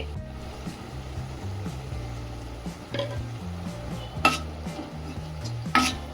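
Spices and garam masala frying in oil in a pan for fish biryani, a steady low sizzle with scattered stirring scrapes and a couple of sharper clinks of a spoon against the pan.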